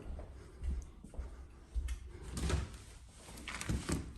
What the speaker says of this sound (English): I can open the door.